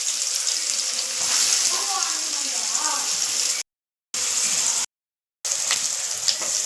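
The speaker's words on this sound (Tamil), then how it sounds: "எண்ணெய் கொஞ்சம் சோம்பு போட்டு வெங்காயம் போட்டு தாளிச்சுக்கலாம்" Onions and fennel seeds sizzle in hot oil as a tempering for prawn thokku, a steady close hiss and crackle that runs through the whole stretch, broken by two short silent gaps.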